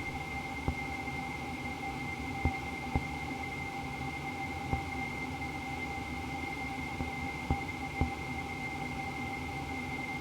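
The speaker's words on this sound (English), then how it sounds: "White noise, some pink noise." Steady synthesized hiss of white and pink noise from a modular synthesizer, with a constant tonal hum underneath and a few faint clicks scattered throughout.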